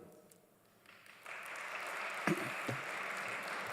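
An audience at a justice forum ceremony breaks into applause that builds from quiet into a steady, moderately loud wash of clapping from many people, lasting to the end.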